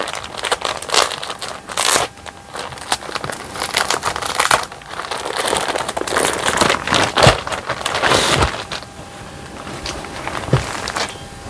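Plastic packaging around wholesale bedsheets being opened at a market in Kolkata, a loud, continuous crinkling and rustling with sharp crackles for about eleven seconds, no talk.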